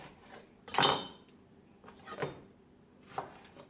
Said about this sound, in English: I'm just gonna chop the onion